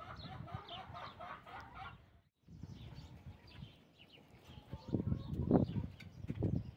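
Backyard chickens cluck softly and steadily, with a louder burst of hen calls toward the end; the birds sit fairly close in a coop shared with rabbits, and no one speaks.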